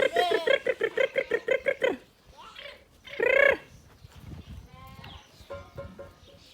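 A run of rapid, wavering bleats from young lambs drinking in hot weather, then a longer loud bleat and softer calls nearby, with faint ambient noise between.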